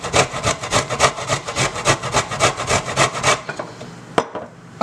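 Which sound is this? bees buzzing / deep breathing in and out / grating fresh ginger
grating fresh ginger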